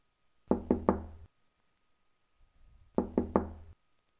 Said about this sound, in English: Yeah, I can sit here just knocking on your door all day.